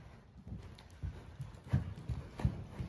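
Horse hooves thud and clip-clop on soft arena ground during show jumping training, an uneven series of dull beats at moderate distance with faint background noise.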